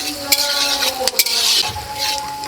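A pan fries with a bright, steady hiss broken by a few sharp clicks and scrapes of a utensil, close and loud over a short stretch with no talk, while onion browns for a Patnai chicken dish.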